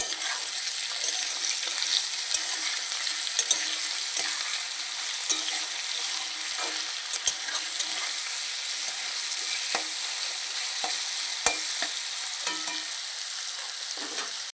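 Steady frying sizzle of salted potatoes with repeated scraping and stirring clatters in a pan, continuing throughout at moderate loudness.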